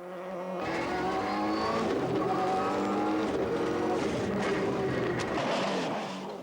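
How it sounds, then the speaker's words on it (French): Rally car from the 1998 Rally Catalonia speeding along a stage, engine loud and close, rising and falling as it revs through gears with brief tire noise. "Renaud Verreit roule vite, mais pourrait rouler plus vite encore."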